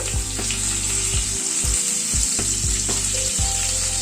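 Pointed gourd and potato frying in hot oil in a pan, a loud continuous sizzle close up with low thumps as pieces are turned, no voices.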